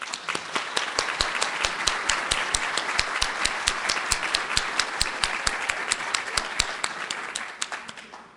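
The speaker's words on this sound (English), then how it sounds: "Give yourselves a round of applause" Sustained applause from a dinner-hall audience at an awards event, dense steady clapping for several seconds with individual sharp claps standing out, tapering slightly at the end.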